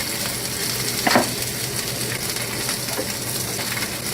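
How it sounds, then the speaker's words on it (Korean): Ciabatta grilling in an oiled pan, a continuous close sizzle and crackle of hot oil, steady and fairly loud, with a brief scrape or clink of a utensil partway through. "오일을 두르고 치아바타를 앞뒷면 살짝 구워줍니다"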